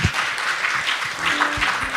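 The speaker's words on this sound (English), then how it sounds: "I'll be giving another big round of applause" Conference audience applauding in a hall, a dense continuous round of clapping from many hands at moderate distance, with faint low thumps underneath.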